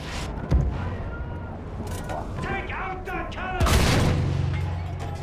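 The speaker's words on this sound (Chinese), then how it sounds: "那个大炮是要打什么的？" Artillery cannon fire in the video game Battlefield 1, sharp booming blasts landing twice with rolling, crackling tails, amid other battle noise under a voice talking.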